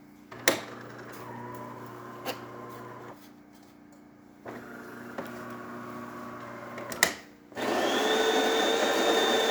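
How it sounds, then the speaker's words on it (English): A DeLonghi espresso machine's grinder whirs steadily, pausing briefly and restarting with small clicks, then a louder, higher mechanical hum takes over near the end. "Right now the machine is grinding coffee from here"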